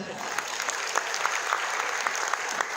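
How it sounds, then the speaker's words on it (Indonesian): An audience at a holistic health seminar claps together, a fairly soft, sustained patter with individual hand claps standing out at regular beats through the whole stretch. "boleh tepuk tangan dong"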